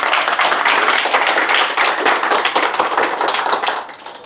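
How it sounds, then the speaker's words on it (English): A crowd gives loud, dense applause at the official launch of an Aprilia motorcycle riders club in Hyderabad, India, with rapid overlapping claps sustained for about four seconds before tapering off. "So a huge round of applause for all of you"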